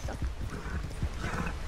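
Quick clip-clop of a horse's hooves in a video game, a loud, rapid rhythm of thuds with a faint neigh mixed in, up close and steady.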